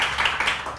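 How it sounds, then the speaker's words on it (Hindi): A studio audience on a morning talk show claps in a brief, fairly close burst of overlapping hand claps, steady and fading only slightly at the end. "तालियां तालियां।"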